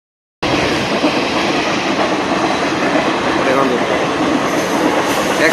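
Express train rushing past at close range in a rural area near Ratagarh, a loud steady roar of wheels and rail noise starting abruptly and holding continuously to the end.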